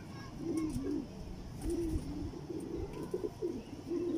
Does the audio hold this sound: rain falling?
no